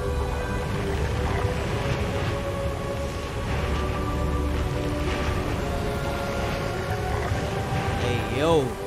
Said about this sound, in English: Brought rain to this starving village.